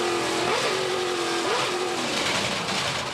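In-car sound from a touring car racing on a street circuit up Watt Street, a loud, strained engine drone with two quick rises in pitch as it shifts, under steady road and wind roar.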